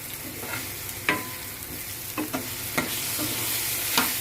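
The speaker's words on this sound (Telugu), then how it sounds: "ఇలా పచ్చి వాసన వెళ్ళిపోతే ఇలా కలిపేయాలి" Beans frying in a pan sizzle steadily while a spoon stirs them, with several distinct scraping clacks against the pan at irregular intervals, close and fairly quiet.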